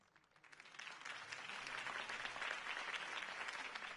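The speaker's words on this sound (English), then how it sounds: "could have heard that applause" Applause in the video game Telltale Batman swells up from a few claps into a steady, dense clapping from a crowd, sustained and moderately loud without voices.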